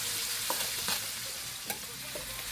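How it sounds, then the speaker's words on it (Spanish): Chopped garlic and squid sizzling in a pan for black squid-ink rice, a steady close fry with a few soft stirring scrapes and clinks, no voices. "Por acá se está sofritando con el ajo y los calamares"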